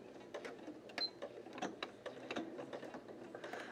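Sewing machine stitching around the edge of a throw pillow, a quiet mechanical whirring and clicking with irregular short bursts, close and fairly faint.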